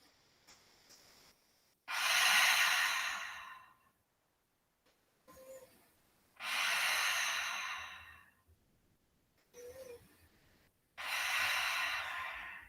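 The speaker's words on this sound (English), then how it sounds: "take a couple of deep breaths" Deep breathing during a yoga session: three long, loud airy exhalations, each lasting about two seconds, separated by quieter inhales and brief pauses, close to the listener with no talking.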